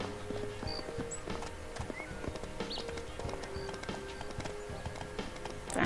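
Horse hooves clip-clop in a PS1 riding game, Mary Kate & Ashley Winner's Circle, a busy, fairly quiet patter of hoofbeats with occasional whinnies and small game chimes over steady background music.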